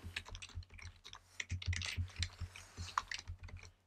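Typing code on a computer keyboard, quick bursts of close, crisp key clicks in an uneven rhythm over a faint low hum, with no voice.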